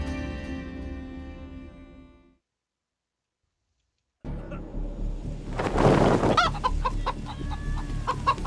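Chickens cluck in the Wasteland 3 video game, a burst of fowl calls arriving after a pause in the music, repeated clucks over a busy mix of game sound.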